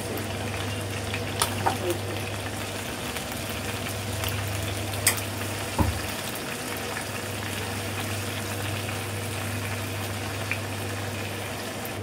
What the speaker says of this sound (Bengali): তন্দুরি চিকেন ম্যারিনেট করা দেখাইছি, এখন ভাজা দেখেন